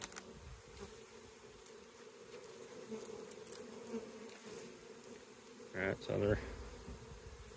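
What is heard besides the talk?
honey bees buzzing at a hive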